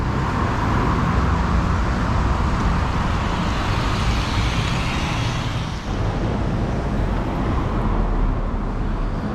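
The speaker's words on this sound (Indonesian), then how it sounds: "Ini adalah bus gratis, yaitu bus" A steady, loud roar of road traffic and a free city bus on the street in Kuala Lumpur, continuous engine and tyre noise with no breaks and no talk.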